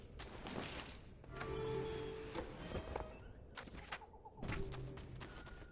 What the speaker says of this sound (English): Some, like, other kinds of birds.